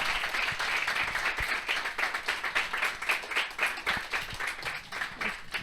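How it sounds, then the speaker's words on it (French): A seated audience at a lingerie brand keynote claps for two presenters, steady and fairly faint, a continuous patter of many hands with slight surges throughout. "vous vous levez, vous applaudissez Faustine et Laure"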